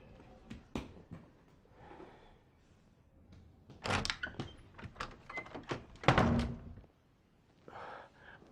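Pots are banged and slammed in a burst of loud, irregular metallic clatters and thuds, close by with quiet gaps between, and no talk.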